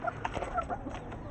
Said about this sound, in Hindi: ये मुर्गियाँ भी खा रही हैं, मुर्गा पीछे है